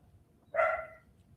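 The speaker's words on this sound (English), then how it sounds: "Maybe he'll stop barking soon." A single dog bark, short and fairly faint, rises out of quiet room noise with no talking.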